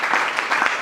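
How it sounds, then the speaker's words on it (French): Congregation applauding loudly at a church service, a dense, steady burst of clapping from many hands that fills the whole short moment. "Acclame très fort aussi."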